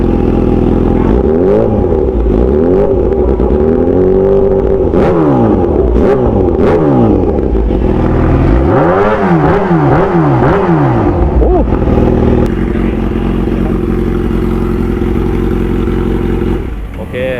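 A Kawasaki Ninja H2 at a drag strip, revved hard close by in repeated rising and falling sweeps, the engine roaring loudly and then settling to a rough idle, with people talking nearby.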